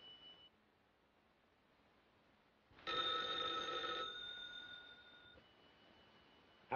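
An old telephone bell rings in two bursts, a faint short ring and then a louder ring of about a second, over quiet hiss from a 1932 film soundtrack.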